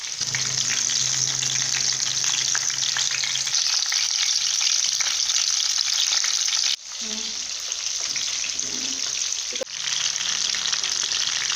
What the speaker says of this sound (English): The chicken kebab is frying.